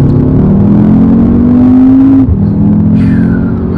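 Audi TTS with 310 hp accelerating, its engine note climbing steadily and loud from close inside the car, then dropping abruptly as it shifts up and pulls again; someone speaks over the engine.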